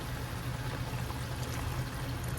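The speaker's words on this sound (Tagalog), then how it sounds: "Lagyan natin ng konting tubig" A little water poured into pork adobo with skin-on pork in a pot, a faint, steady trickling pour lasting a couple of seconds with quiet background hum.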